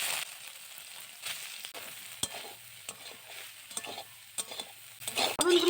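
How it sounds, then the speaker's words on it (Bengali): Soybean chunks fry in hot oil, left over from frying potatoes, with a close, continuous sizzle broken by frequent scraping and clattering as a spatula stirs the pan. "একই তেলে সয়াবিনগুলো ভেজে নিব।"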